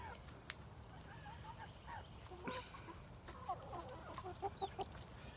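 Adult chickens cluck inside a coop, a series of short, fairly quiet clucks and calls, with a quicker run of clucks toward the end.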